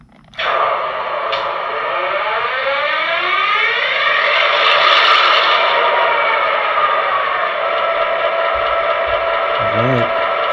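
An MTH PS3-upgraded GP20 model locomotive starting up, a loud diesel engine roar that rises and settles into a steady idle, with a brief horn-like wail near the end.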